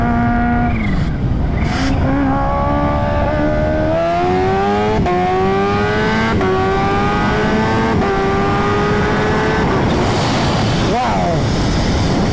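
A Kawasaki Ninja H2 motorcycle makes a hard first-gear launch, and its engine screams loudly and close as the pitch climbs steadily through the rev range, with brief dips at gear changes.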